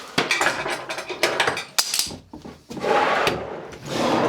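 Items clatter back into workshop drawers: wooden drawers slide and knock, with metallic rattles of contents in a series of close, uneven bumps and scrapes.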